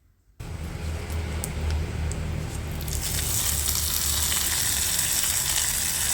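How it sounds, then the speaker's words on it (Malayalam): Mustard seeds, fenugreek, dried red chillies and curry leaves hit hot oil after a moment of near silence, bursting into a loud, steady sizzle that grows brighter and crackles on without talk. "കടുകും ഉലുവയൊക്കെ ഒന്ന് പൊട്ടി കഴിഞ്ഞ് കഴിഞ്ഞാൽ പിന്നെ നമ്മളിതിലേക്ക് വറ്റൽമുളകാണ് കേട്ടോ ചേർത്ത് കൊടുക്കുന്നത്."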